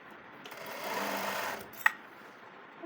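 A sewing machine runs a seam on a salwar, a steady motor whir and needle chatter lasting about a second and a half, close and moderately loud, ending with a brief click.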